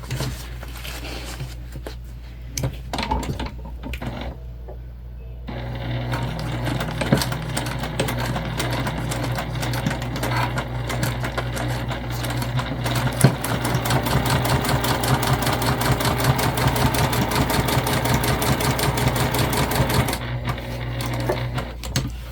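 Sewing machine stitching seams on a crossbody bag, starting with a few short bursts and then a long, loud, continuous motor hum with rapid needle clatter, close by.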